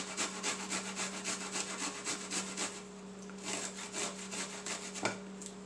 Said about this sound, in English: with the fork, you know, stick the garlic up to the grate here